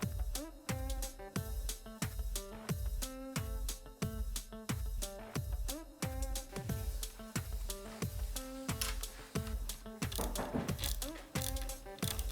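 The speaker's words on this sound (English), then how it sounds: "Tighten down these screws to put in the tabs most of the way, then slide the tab in and then tighten down to finish." Screws being driven with a ratchet during reinstallation of the dashboard and head unit in a Honda Jazz GE, a steady run of quick, loud clicking strokes repeating throughout with no talking.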